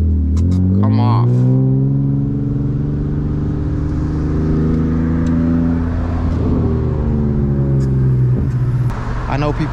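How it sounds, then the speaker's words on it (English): A manual BMW E36 328i engine revs up and pulls away in first gear on a rainy morning, a loud, close rising drone that climbs in pitch and holds steady, with a voice speaking over it. "Let's go to first gear. Come up to the bite point, give it some revs, come off."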